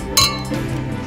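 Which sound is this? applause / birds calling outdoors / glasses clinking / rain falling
glasses clinking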